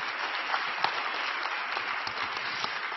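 A church congregation at a worship service gives a big round of applause to welcome the pastor, with continuous, moderately distant clapping and a few sharper claps standing out.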